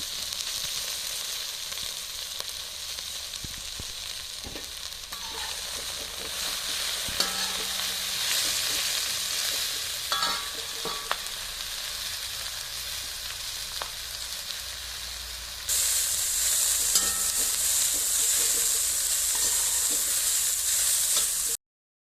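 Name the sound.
stirring chopped pathila leaves frying in a pan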